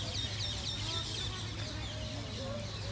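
Birds calling near a fountain in a small garden in Seville, Spain, with quacks and clucks mixed over a steady wash of splashing water, fairly close and continuous.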